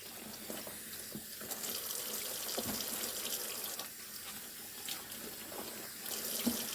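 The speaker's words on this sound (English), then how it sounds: "I'm going to go ahead and wash all of these greens" Collard and turnip greens are washed under a running kitchen sink tap, giving steady flowing water broken by occasional splashes and soft knocks as the leaves are handled.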